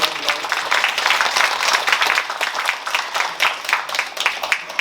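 An audience at a small concert marking a writer's anniversary applauds a rock band, giving a steady, dense patter of clapping throughout.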